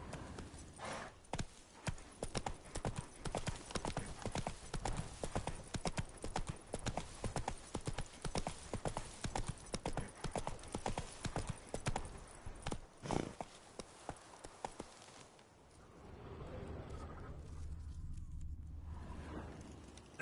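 Roach the horse in The Witcher 3 trots with rapid, even clip-clop hoofbeats for most of the stretch, then the steps stop and a low snort or soft whinny follows, with no speech.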